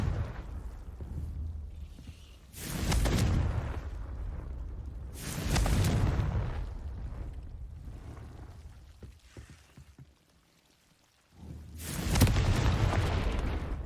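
Three heavy blasts from the Confringo fire spell in the Hogwarts Legacy video game, each a loud booming burst with a rumbling tail, spaced several seconds apart with a quiet gap before the last.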